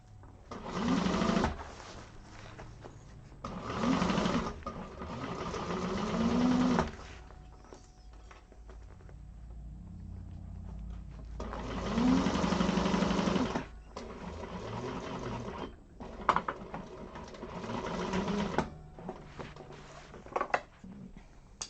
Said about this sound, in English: Do some back stitches. And then sew across.